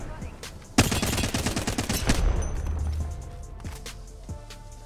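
Flatline rifle gunfire in Apex Legends: a sudden, loud burst of rapid automatic shots lasting over a second, followed by trailing impacts and scattered fainter shots and clinks.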